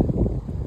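Wind buffets a microphone outdoors on a hot, sunny day, a steady low rumbling roar with uneven gusts that fills the short moment without any voices.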